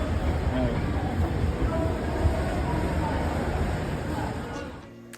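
The Ruposhi Bangla Express train from Dhaka to Jashore rumbles steadily with a broad, continuous roar and faint rhythmic clatter, then fades slightly at the end.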